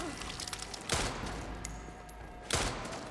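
Two heavy gunshots about a second and a half apart in the first-person Resident Evil 9 Requiem, fired at enemies, each a loud booming crack over a dense ambient game soundtrack.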